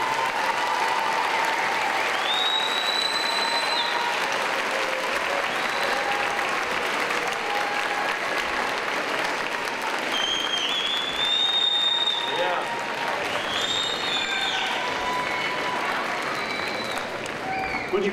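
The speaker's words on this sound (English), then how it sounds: "give a big round of applause for him." Audience applause at an 8th grade graduation ceremony, a steady, dense wash of clapping from a large crowd that fills the whole stretch at close, even loudness, with a few cheers and whistles rising above it.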